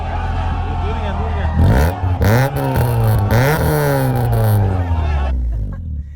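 A car with a rusty Vibrant exhaust and blast pipe revs several times in close succession over a rumbling idle, each rise loud and raspy, with voices in the background before it settles.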